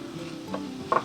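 Onions caramelize in a pan over medium heat, a soft steady sizzle with a couple of close stirring scrapes near the end, brief and fairly quiet.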